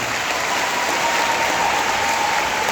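Audience applause for a small child holding the tricolour flag at a school Kargil Vijay Diwas event, a steady continuous wash of many hands clapping, even and sustained throughout.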